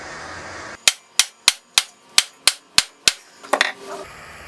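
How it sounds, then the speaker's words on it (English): Hard metallic hammer blows strike the seized engine of a 1977 Honda CT90 Trail motorcycle, about eight sharp, evenly spaced whacks close by, followed by a brief clatter. "We've been whacking it for quite a while."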